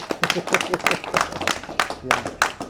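Audience applause at an award presentation for a JMAT regional gathering in Mwanza, a loose burst of overlapping claps mixed with voices from the crowd, moderately loud and close throughout.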